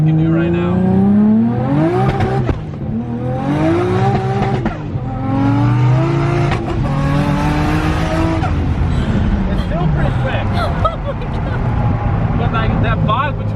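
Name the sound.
Toyota A90 Supra with titanium exhaust accelerating through gears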